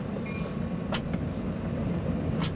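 CSX freight train engines passing nearby, a steady low rumble with a couple of sharp metallic clanks or squeals standing out, heard from a vehicle with no talking.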